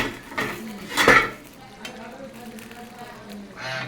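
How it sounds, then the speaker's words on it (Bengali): Fried fish pieces go into a pot of boiled potatoes, bringing a sharp metal clank of utensil on pot near the start, then soft stirring scrapes and a light sizzle. "এখন আমি দিয়ে দেবো মাছ কাটা, যে আমি ভেজে রেখেছিলাম সব মাছ কাটা দিয়ে দেবো।"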